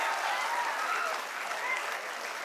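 Sustained applause from an audience at an award ceremony celebrating exam results, a dense, even wash of clapping at moderate distance throughout.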